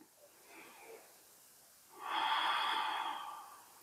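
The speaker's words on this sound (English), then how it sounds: "slow, deep breaths." Slow, deep breathing during a yoga flow: a soft, faint inhale is followed by a long, louder, breathy exhale, close to the microphone, with no speech.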